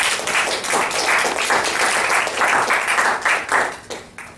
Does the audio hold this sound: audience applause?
yes